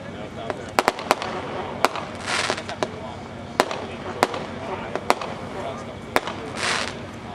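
A 16-shot Diamondback fireworks cake fires a string of sharp reports, single bangs and quick clusters spread irregularly over about seven seconds, with crackling hiss and crowd noise underneath at a moderate distance.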